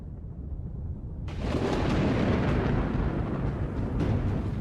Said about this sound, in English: As the afternoon wears on, a storm begins to brew.